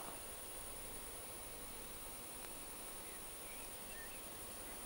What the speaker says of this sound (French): Une sauterelle, peut-être une sauterelle